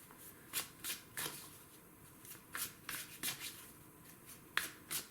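Oracle cards from a twin flame deck are shuffled in steady quick riffles and slaps, soft and close, repeating through the stretch with no talk.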